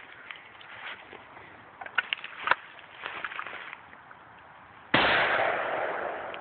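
Twelve-gauge shotgun blasts fired into a tree to bring it down outdoors: a few sharp, fairly distant pops in the first seconds, followed by a loud, steady rushing noise.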